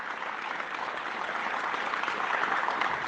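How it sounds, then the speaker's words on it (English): Steady audience applause fills a political campaign event hall, a dense, even wash of many hands clapping continuously without a break. "give him a round of applause."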